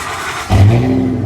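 A 2010 Ford F-250 pickup on 38-inch mud-terrain tires with an 8-inch suspension lift starts by remote: near silence, then a sudden loud engine catch and rumble that settles into a steady, deep idle.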